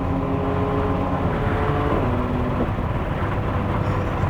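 A hearse's engine drones loud and steady as it is driven hard around the Nürburgring, a sustained close-up mechanical roar with little change across the stretch.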